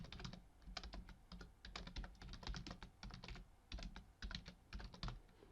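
Keys clatter on a computer keyboard in quick, uneven bursts with brief pauses between words, close and fairly quiet with no voices.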